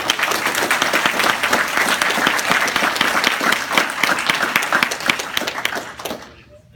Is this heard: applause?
yes